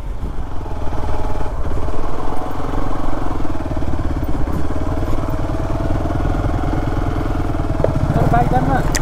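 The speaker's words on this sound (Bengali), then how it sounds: "আমরা মারফা ভিলেজ একদম অলি গলি ঘুরে বেড়াচ্ছি বাইক নিয়ে।" A motorcycle engine drones steadily at close range while riding through narrow lanes of Marpha village in Mustang, Nepal, a continuous mid-pitched rumble with rattling, and people talk over it.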